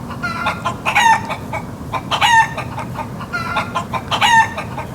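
A chicken clucks and squawks in repeated bursts, close and fairly loud over a low background rumble.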